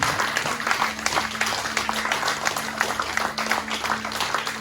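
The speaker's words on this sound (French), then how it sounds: "Salue-le par des acclamations" A church congregation applauds and acclaims during a French-language sermon, a dense, steady wash of clapping that holds for the whole stretch over a low, constant hum.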